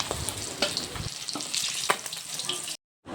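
Fish frying in a hot pan gives a steady, close hiss of sizzling oil with scattered pops and crackles, cut briefly by a moment of silence near the end.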